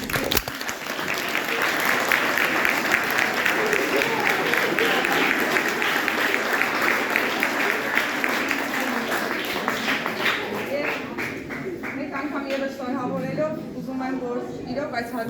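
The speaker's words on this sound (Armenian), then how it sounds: "ես ուզում եմ, որ մեկ անգամ ծափահարենք Ալեքսի" Audience applause for Alex at a 7th-grade Easter event in an Armenian school, a full sustained round of clapping that carries on steadily, then thins out near the end as a voice begins speaking.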